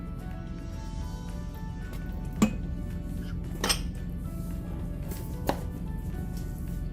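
A spoon clinks and scrapes against a pot while beef biryani is stirred in an Instant Pot, with a few sharp metallic knocks standing out over a low steady hum.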